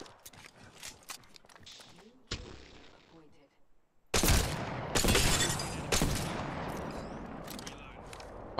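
Gunfire in the battle royale game Apex Legends, loud bursts of rapid shots arriving in clusters after a quieter stretch, layered over busy game effects and players talking.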